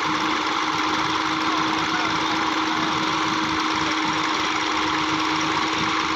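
A Massey tractor engine labours to pull out of soft soil, its loud, steady drone running without a break and with no voices.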